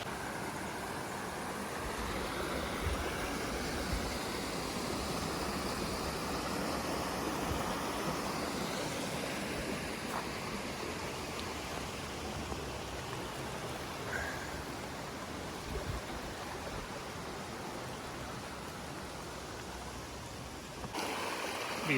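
Rock Creek, a clear mountain stream, rushes steadily with a continuous broadband wash of flowing water, fairly close and unbroken throughout, with no voices.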